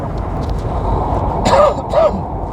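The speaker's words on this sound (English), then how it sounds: "Sorry, I didn't want to cough in the mic." Two short coughs, close to the microphone, over a steady background rumble with no talking.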